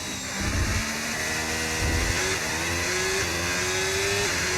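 A Formula 1 race car engine in the F1 25 racing game at the Circuit of the Americas drones at high revs, its pitch climbing steadily as the car accelerates, loud and continuous with no voices.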